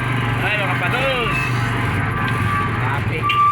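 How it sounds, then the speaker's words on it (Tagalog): Road traffic: a low, steady engine hum with passing vehicle noise throughout, heard under people talking close by. "Traffic."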